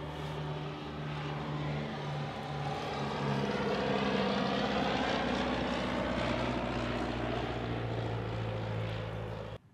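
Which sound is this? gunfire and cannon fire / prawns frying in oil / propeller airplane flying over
propeller airplane flying over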